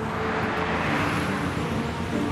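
Heavy car traffic in central Beijing, with motorways and ring roads giving a constant loud, even wash of engine and road noise, no talking.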